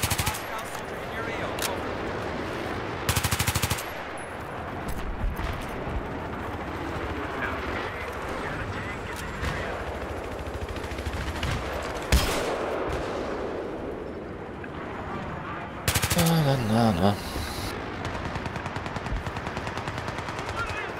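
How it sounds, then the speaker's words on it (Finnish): Gunfire from the Battlefield 3 video game on the Caspian Border map, heard as constant rattling machine-gun bursts and heavier explosive booms over a dense battle din, loud and continuous, with a voice speaking at times underneath. "Näetkö sä mistä ammutaan?"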